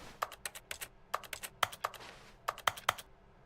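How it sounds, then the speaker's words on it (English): Computer keyboard typing in The Stanley Parable game: quick bursts of crisp key clicks in uneven clusters, fairly close and moderately loud, with no voice over it. "what's up with the keyboard sounds?"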